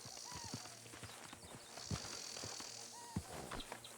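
Horses in Red Dead Redemption 2 give off close, repeated clip-clop hoof steps in an uneven rhythm, with soft snorts and light jingling tack between them, fairly quiet and with no speech.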